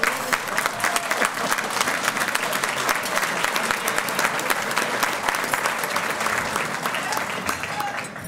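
Steady, dense applause from a conference audience at a state county officials' legislative gathering, sustained and even throughout with no break.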